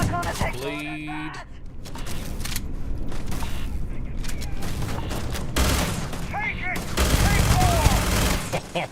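Rapid-firing weapon in the video game Starfield, a dense, loud fusillade of shots running continuously, with in-game sounds layered around it.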